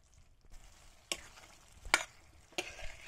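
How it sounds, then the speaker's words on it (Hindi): Spiced lotus stem curry stirred in a pan, a faint low sizzle with three sharp scraping strokes of a spoon against the metal, spaced about a second apart, close and fairly quiet. "अब हम 2 मिनट तक मैं ऐसे घुमाती रहूंगी ताकि मसाला इसमें अच्छी तरह से अंदर तक चला जाए।"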